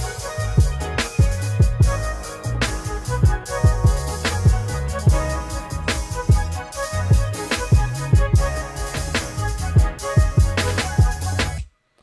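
A hip-hop style beat plays with crisp drums and a warm, rounded live bass guitar line moving underneath, looping steadily with no one talking.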